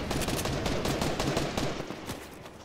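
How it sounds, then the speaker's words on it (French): Rapid automatic gunfire from a video game fight, a dense continuous burst of loud shots rattling on for nearly three seconds and tapering slightly at the end, with no talking. "Il a une rafale,"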